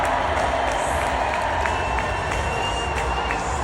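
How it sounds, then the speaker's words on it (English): A large convention crowd at the DNC cheering for Hillary Clinton, a dense, sustained roar of voices and applause heard from high up in the arena, steady and loud throughout. "people started cheering, and now she's at the microphone, and people are still cheering right now"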